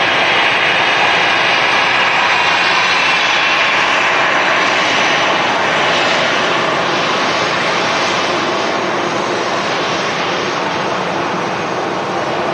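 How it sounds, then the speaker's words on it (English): TUI Boeing 787-9 Dreamliner taxiing at Manchester Airport, its jet engines giving a loud, constant broadband roar and whine that holds steady with no talk over it. "it's got a TUI 787-9 Dreamliner taxiing out as well"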